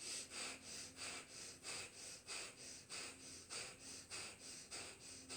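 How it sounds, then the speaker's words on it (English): Quick rhythmic breathing exercise pumping the belly: about a dozen sharp, even exhale-inhale bursts in steady succession, close and fairly soft, with no talking. "you're breathing quickly, pumping the belly."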